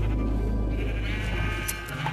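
Sheep bleat in the Minecraft video game, several overlapping animal calls over a dense steady background of game sound, fairly loud and continuous.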